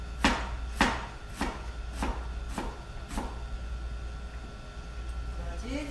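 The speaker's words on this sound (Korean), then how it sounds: "그리고 편으로 이렇게 썰어서 채를 썰어보도록 하겠습니다." A knife cuts peeled bellflower root (doraji) on a board, giving about six sharp, evenly spaced close chops early on. A quieter rubbing and handling sound follows, with a faint voice in the background.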